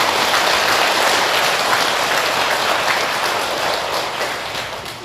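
A seated audience at a Buddhist dharma talk applauds in a continuous, even wash of clapping that holds steady, then slightly tapers toward the end.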